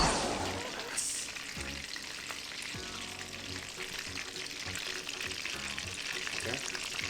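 Food sizzles and crackles steadily in a frying pan for an Indonesian packed-lunch dish, close and continuous, with occasional stirring clinks and a brief clatter near the start.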